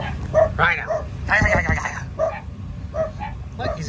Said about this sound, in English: Oh, the dog is gonna go nuts.